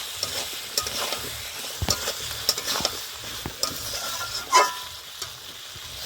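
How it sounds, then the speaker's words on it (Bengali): Snail curry with potatoes is stirred in a hot pan, giving a continuous sizzle punctuated by scraping strokes and the odd clink of a utensil, close by and without speech. "আলুগুলো দিয়ে আবার কিছুক্ষণ কষিয়ে নেব।"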